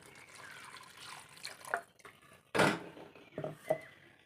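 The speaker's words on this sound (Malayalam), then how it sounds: "ഈ വെള്ളമാണ് നമുക്ക് ഒഴിച്ചു കൊടുക്കാം" Tamarind water poured into a pan for a fish curry, a few short splashing pours and drips coming close and fairly soft, with brief quiet gaps between them.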